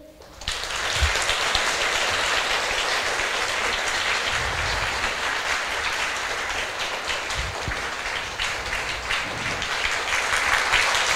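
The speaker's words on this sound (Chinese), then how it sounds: "接下来就让我们一起用最热情的掌声来欢迎" An audience gives sustained, dense applause for about eleven seconds, a steady rain-like clatter of many hands welcoming an erhu performer onto the stage.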